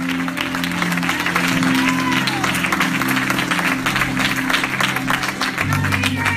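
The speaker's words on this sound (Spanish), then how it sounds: "Fuerte el aplauso para Jesús." Congregation applause during a Spanish-language evangelical church service, steady crowd clapping with a sustained musical drone and organ-like tones beneath it, loud and continuous throughout.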